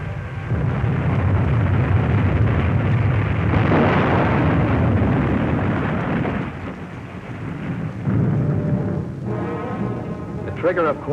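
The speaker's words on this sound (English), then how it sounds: "The Trigger, of course, was subjected to another terrific depth charge." Heavy underwater depth charge blasts from a WWII anti-submarine attack on the submarine Trigger, a loud continuous rumbling roar with booming surges, fading slightly toward the end with a bubbling rush.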